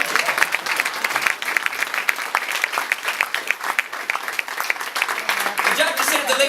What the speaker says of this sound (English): a round of applause for Te Tuhi